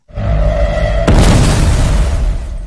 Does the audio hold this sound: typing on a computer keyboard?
no